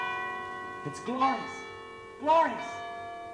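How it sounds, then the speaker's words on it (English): Church bells peal in two separate resonant strikes, each ringing out and decaying, moderately near, while a single voice speaks briefly before them in a staged Christmas Carol scene. "And the bells are wonderful."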